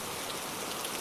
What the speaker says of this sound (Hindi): बारिश के साथ ओले भी पड़ रहे हैं।